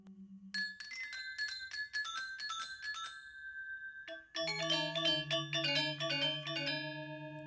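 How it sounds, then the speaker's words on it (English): Balinese gamelan piece, with bright metallic gongs and bells striking rapid interlocking patterns, then a lower, fuller ensemble entering with sustained ringing tones; no talk. "This is a traditional form of music from Bali and Java, which uses a 7-tone division of octaves."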